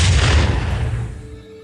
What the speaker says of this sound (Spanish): para luego apuntar a la cabeza de su víctima y fríamente soltar un disparo.